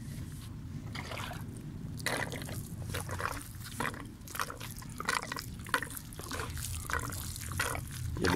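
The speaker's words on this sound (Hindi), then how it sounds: "ये अच्छी तरह मिक्स कर देंगे और इसको हम वाटरिंग कर देंगे।" Water poured onto the soil of a potted cucumber plant, heard as close, uneven splashing and trickling in a series of short bursts.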